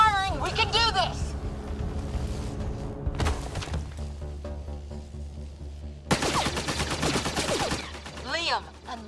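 Sustained gunfire during a firefight in the video game Mass Effect Andromeda, with dense bursts of shots over a rumbling background, a loud volley near the end, and game music and voices layered underneath.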